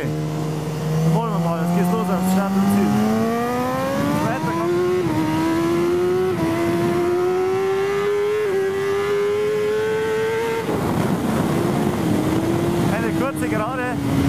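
A superbike on Pirelli superbike tires laps the 4000-metre Circuit Zolder, its engine howling close and loud as it climbs in pitch through the gears, with sharp drops at each shift and brief acceleration bursts.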